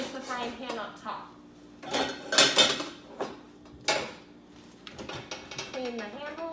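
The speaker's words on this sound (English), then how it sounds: "you place the frying pan up top." Metal kitchenware clanks and rattles as a frying pan is set into a kitchen drawer, several sharp knocks and scrapes spaced irregularly, with a person talking over them.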